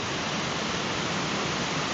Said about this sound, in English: Yes, this is the tallest waterfall on the trail.